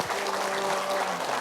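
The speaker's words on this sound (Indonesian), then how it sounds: "tepuk tangan untuk Pak Ustadz Asep Hidayat" An audience at an Islamic religious talk show claps for the ustadz in a short, even burst of dense applause, with a faint sustained tone underneath.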